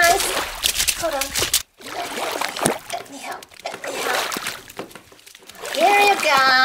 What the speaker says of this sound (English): So much fun to splash in the bathtub.